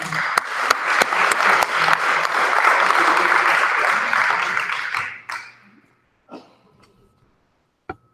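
An audience at a Fargo recovery treasure-map meeting applauding to welcome the next speaker, a dense burst of clapping lasting about five seconds that tapers off, leaving a few stray claps and thuds in a quiet room.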